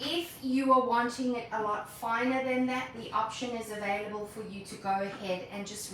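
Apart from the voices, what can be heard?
None of the usual background noises is heard.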